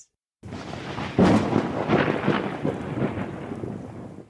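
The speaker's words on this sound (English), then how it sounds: "It was a dark and stormy night." A thunderstorm sound effect sets a dark, stormy night: a loud rumble of thunder breaks out and rolls on beneath steady rain, heard close and alone without any voices.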